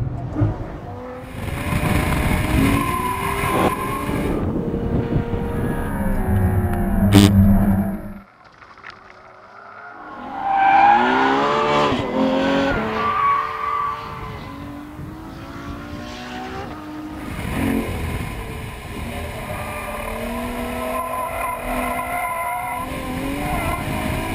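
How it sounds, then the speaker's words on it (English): A 2013 Ferrari F12 Berlinetta engine roaring at full throttle in fifth gear, revving high and loud, dropping away briefly, then surging back with sustained wind and road noise. "That's fifth gear, wide open throttle."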